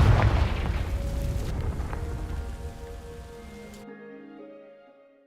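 A Confringo fire spell in Hogwarts Legacy ignites dry vines with a loud, close burst. A crackling, rain-like burn follows and fades away, leaving faint tonal game ambience.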